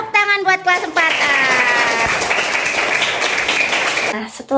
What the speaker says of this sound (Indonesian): Tepuk tangan buat kelas 4A.